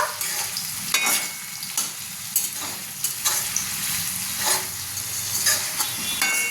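Chopped garlic frying in a pan for a lote fish curry, a steady sizzle with intermittent scraping stir strokes, close and fairly loud throughout.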